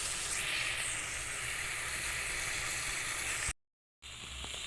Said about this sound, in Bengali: যতক্ষণ পর্যন্ত না মশলাটা থেকে তেল ছাড়ছে ততক্ষণ আমি মশলাটাকে কষিয়ে নেব